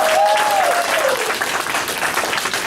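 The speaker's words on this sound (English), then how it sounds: "I want you all to just give him a round of applause" An audience bursts into sustained applause, a dense wash of clapping close by that holds steady and then eases slightly, with a brief whistle at the start.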